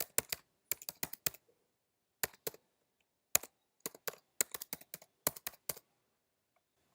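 A password entered on a computer keyboard: quiet, close clicks of separate keystrokes arriving in short irregular bursts with brief pauses between groups, in an otherwise silent room.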